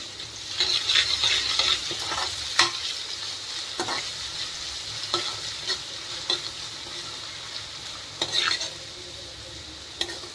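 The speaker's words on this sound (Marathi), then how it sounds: "आता याच्यात टाकूया आपण अद्रक लसूणचं पेस्ट." Homemade ginger-garlic paste fries in a pan with a steady, close hiss, broken by repeated scraping stir strokes and occasional sharper clinks of a spoon against the pan.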